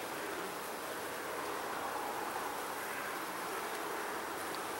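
Steady, dense buzzing of many very dark bees, a continuous hum filling the air around a hive with no talking.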